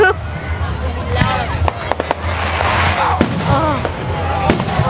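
Fireworks burst overhead at a park show in Rosemead with a rapid series of sharp cracks and booms and a steady rumbling background, while a crowd murmurs and chatters underneath.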